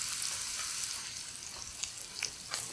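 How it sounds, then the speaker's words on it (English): Spices and diced onion sauteing in oil in a large skillet, a steady close sizzle with faint crackles throughout and no talk. "We're going to throw in our spices and our diced onion, and just saute that until the onions start to be a little bit translucent."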